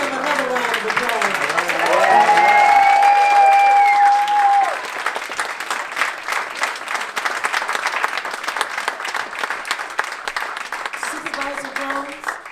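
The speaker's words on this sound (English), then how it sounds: "Let's give them another round of applause." Audience applause after an evening of monologues in Waukegan, a loud, sustained burst of clapping with crowd noise and a brief vocal cheer near the start, slowly thinning into scattered claps with voices talking underneath.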